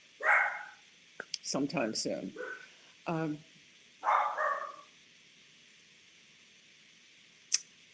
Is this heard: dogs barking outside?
yes